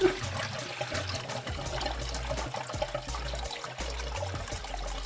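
Coolant drains from a car radiator into a drain pan, a continuous splashing trickle of liquid with low, uneven gurgling pulses, close and unbroken throughout.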